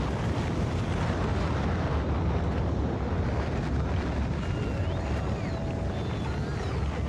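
Sustained dense roar of a rocket launch in the Factorio video game, loud and continuous throughout with a steady low rumble and no talk.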